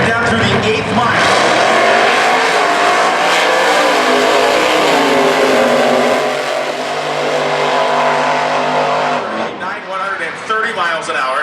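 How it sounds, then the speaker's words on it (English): Two straight-axle, high-riding gasser drag cars run down an eighth-mile strip at Indy, their loud engines roaring continuously and rising in pitch as they pull away, with an announcer talking over them. "These two iconic straight axle, high riding gas are going to head down through the 8th mile."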